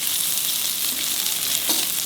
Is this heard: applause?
no